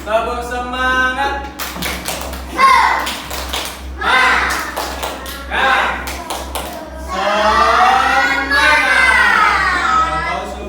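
A class of children performs a rhythmic clapping cheer, with bursts of sharp, loud claps in quick patterns alternating with chanted voices, all close and lively.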